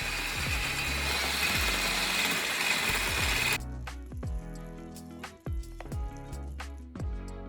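Electric hand mixer churning cinnamon roll dough, a loud motor whir that cuts out partway, followed by lighter clatter and thumps.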